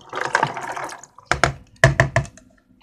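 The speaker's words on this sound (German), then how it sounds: "Dann natürlich das Wasser rein." Water splashes and gurgles in short bursts as it is poured into a jellyfish aquarium being set up, with uneven pulses separated by brief pauses.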